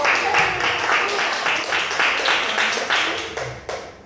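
A small audience at a school meeting claps after a presentation, a loose pattering of hands that rises and fades unevenly with distinct individual claps, fairly close and alone without speech.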